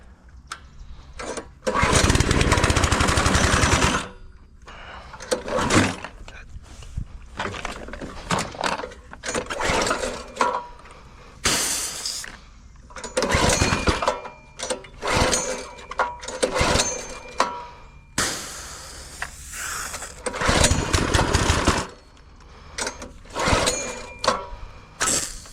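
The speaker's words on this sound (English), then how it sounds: "pressure wash it off." Pressure washer rinsing detergent cleaner off a Fantic XE300 dirt bike, loud broadband spray bursts starting and stopping in an irregular rhythm, close by, with no talk.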